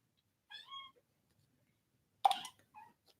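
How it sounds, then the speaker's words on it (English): A pet cat meows twice in a quiet room, short high-pitched calls separated by a pause, close to the microphone and with no talking. "Her meow is adorable."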